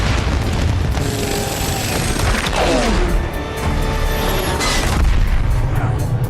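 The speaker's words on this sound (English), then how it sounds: "a second wave of explosions followed right after." Heavy booming explosions and crashing blasts from an aircraft's engines roll together over a loud, continuous rumble, with one deep boom standing out partway through.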